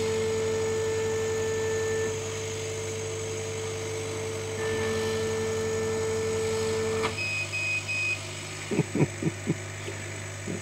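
A laser cutter runs on corrugated cardboard at speed setting 10, giving a steady machine hum with a thin, constant whine; a few sharp ticks and soft thumps appear near the end.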